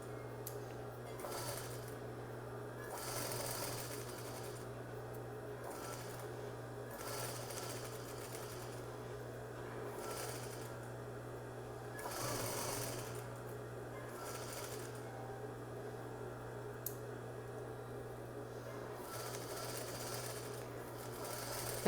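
Sewing machine stitching a messenger bag strap, running in repeated bursts of rapid mechanical needle clatter over a steady motor hum, close and fairly quiet, with no speech.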